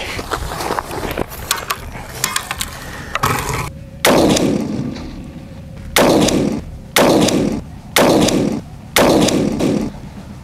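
A Howa Super Lite rifle is fired once, with a sharp, loud report followed by metallic bolt-action clicks and ratcheting in several short bursts, close to the microphone.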